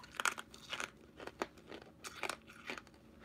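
Stale, crunchy old gum from a 1987 Topps baseball card pack being chewed up close, giving a series of sharp, irregular crunching bites with no talking.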